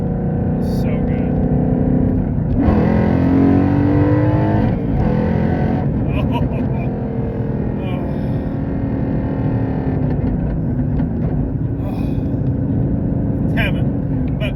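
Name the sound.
Ford Mustang Boss 302 driving with upgraded MT82 transmission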